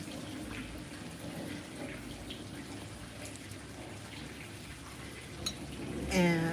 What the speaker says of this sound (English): Let me get a little bit of water.